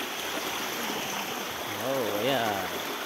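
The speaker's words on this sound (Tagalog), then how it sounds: "Binaybay na namin yung malaking ilog." A large river's water rushes steadily as a continuous broadband wash, with a voice speaking briefly over it near the end.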